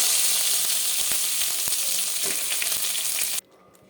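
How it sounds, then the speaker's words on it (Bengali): Ginger and garlic sizzle in hot oil in a pan, a steady dense hiss with a few faint crackles and pops, close and continuous until it drops away abruptly near the end. "আমি আলাদা একটা কড়া গরম করে আদা রসুনটাকে ভেজে নিচ্ছি তেলে"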